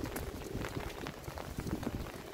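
Rain falling steadily around someone walking outdoors, a dense patter of drops on surfaces, fairly close and even throughout without any talking.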